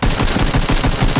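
Rapid automatic gunfire in PUBG Battlegrounds, a loud close burst of about seven evenly spaced shots in quick succession.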